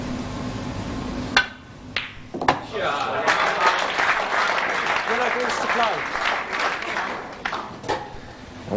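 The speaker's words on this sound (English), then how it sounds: "The Australians applauding that." A snooker audience applauds a shot at a 1999 world championship quarter-final in Australia, steady clapping swelling after a couple of sharp knocks and continuing for several seconds as a commentator talks over it.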